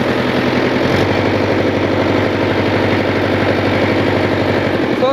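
A manual tractor engine running at high revs while driving, a loud, steady, rumbling drone with a low throbbing pulse throughout and no pauses.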